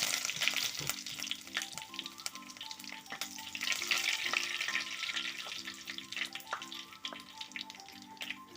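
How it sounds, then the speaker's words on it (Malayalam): Curry leaves crackle in hot coconut oil with mustard seeds and a pinch of fenugreek, a close, continuous sizzling and spitting with faint stirring scrapes and a low steady hum underneath. "ഒരു തണ്ട് കറിവേപ്പില കൂടെ ഇട്ട് കൊടുക്കാം"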